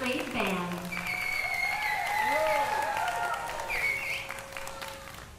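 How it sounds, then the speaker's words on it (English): Audience applause for the Dodgen Middle School 8th Grade Band at a 2016 Disney performance, a sustained wash of clapping swelling and easing over several seconds, while an announcer's voice and stray tones sound over it. "Please join me in giving this group a big round of applause"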